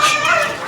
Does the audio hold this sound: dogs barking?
yes